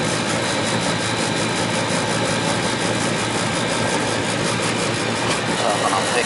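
An A/C unit compressor runs with a loud, continuous mechanical drone and broadband hiss, heard close and steady through the whole stretch.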